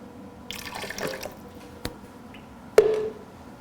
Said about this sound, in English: Okay, just a tad bit of water.